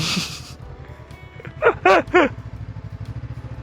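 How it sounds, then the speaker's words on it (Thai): Dusty brakes squeal on a vehicle driving through Khao Yai: three short, sharp, loud squeals come one after another over a low engine hum, with no talking. "โอ้เบรกดัง"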